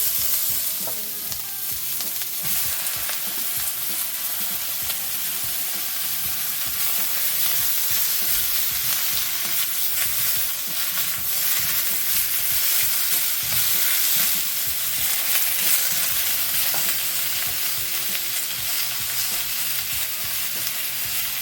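Bok choy fries in an oiled pan under a loud, steady sizzle, with repeated stirring and tossing scrapes over about twenty seconds and no talking.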